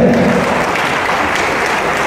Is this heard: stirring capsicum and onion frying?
no